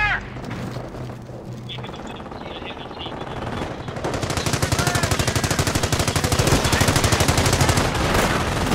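Sustained machine gun fire from the World War II strategy game Company of Heroes. It starts as a lighter clatter, then from about four seconds becomes a dense, loud, rapid stream of shots with booming low thuds.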